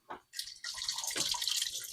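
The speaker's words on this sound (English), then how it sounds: "so some of the tallow is splashing." Melted beef tallow pours and splashes into a bowl set low over a kitchen sink, a steady liquid splatter and trickle after a brief first spatter.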